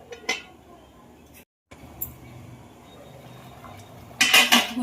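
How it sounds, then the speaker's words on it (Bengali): A lid clatters onto a pot of simmering ghugni topped with coriander leaves, with a few metallic clinks and knocks early on and a louder burst of clanking near the end, close by in a quiet kitchen. "আর একটু ঢেকে দেবো।"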